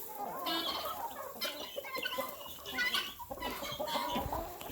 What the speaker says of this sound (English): There's my white rooster.